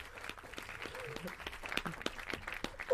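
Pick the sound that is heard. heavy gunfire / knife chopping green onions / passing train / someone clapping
someone clapping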